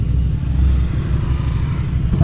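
A Vespa Panarea 125 scooter engine runs steadily nearby, a loud, continuous low rumble with no pauses or speech over it.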